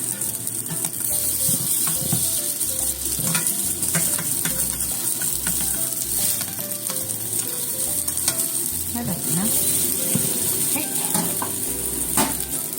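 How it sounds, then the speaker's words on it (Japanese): Green onion and daikon rice cakes with sesame frying in a pan, giving a steady close sizzle with occasional light scrapes and taps of a utensil against the pan. "あとはね、これを焼いていきますよ"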